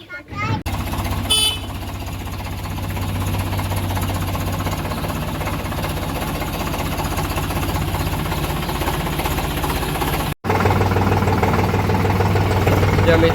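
A tractor engine chugs loudly and steadily at close range with a rhythmic knocking throb during sowing on a farm, briefly cutting out near the end before roaring on again.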